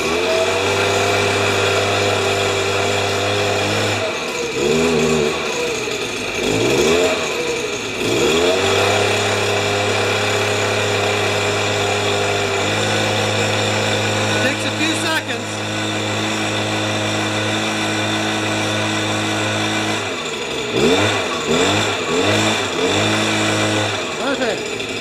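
A small two-stroke leaf blower engine runs at a steady buzzing idle with a few throttle revs rising and falling, loud and close, and someone talks over part of it.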